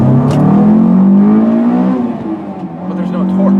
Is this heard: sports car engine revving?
yes